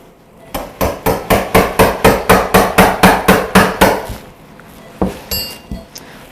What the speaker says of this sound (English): I'm just going to cut the tip off.